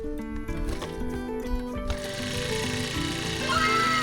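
A small gas-powered grass cutter engine on a farm sputters and catches, then settles into a steady, loud, buzzing run close by, with no talking.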